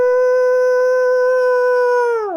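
A woman gives a sustained, steady wolf-like howl imitation, loud and close, holding one pitch for about two seconds before it falls off at the end.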